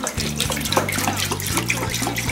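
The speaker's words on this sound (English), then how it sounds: "First we're going to pour in the milk." Milk poured for homemade cheese making, a steady liquid pouring and splashing sound that runs continuously throughout, close and fairly loud, with no talk.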